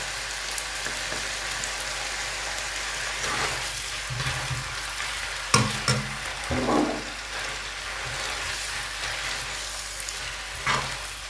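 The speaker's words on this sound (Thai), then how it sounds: "ผัดไปให้ เส้นสุกก็พอจ้ะเนาะ" Glass noodles with a spoonful of ketchup being stir-fried in a pan, a constant hissing sizzle broken by a few louder scrapes and stirring clatters, no one speaking.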